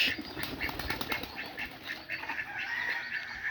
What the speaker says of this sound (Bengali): এই যে আমাদের হাঁস